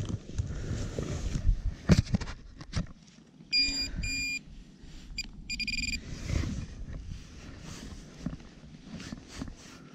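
An X-Terra metal detector sweeps over ground outdoors and gives short high electronic beeps on a faint target, two brief bursts of tones heard close up amid rustling and handling noise.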